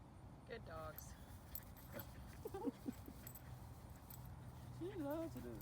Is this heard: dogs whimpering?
yes